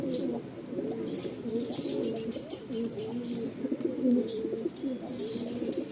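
Madrasi pigeons cooing close by, a continuous overlapping series of soft throaty coos and rolling burbles from several birds, with faint light chirps above.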